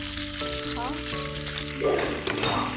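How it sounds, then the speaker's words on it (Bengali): Ginger garlic paste and salt sizzle in hot oil in a pan as they are stirred, a steady hiss under sustained tonal background sound, with a brief louder scraping flurry toward the end. "নুন আর আদা রসুনটা দিয়ে আমি ভালোভাবে একটু নেড়ে চেড়ে নেবো"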